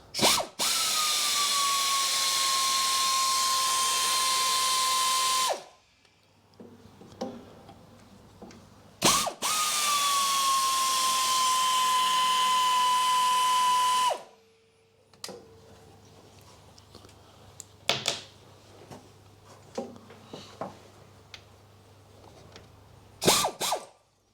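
A power tool whirs in two long, loud bursts as it undoes bolts on a 2001 VW Beetle 1.6 petrol 8-valve engine, each burst winding down, followed by quieter clanks and clicks of metal parts.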